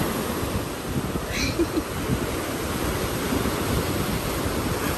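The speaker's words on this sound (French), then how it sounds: "ça fait genre une butée et des grosses vagues" Continuous roar of ocean surf with waves breaking in the distance, a broad steady wash of noise.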